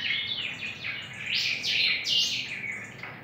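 A young pica hueso bird, caught three weeks earlier, chirps in a rapid series of high tweets and short call phrases, close and clear against a steady hiss, with no voices.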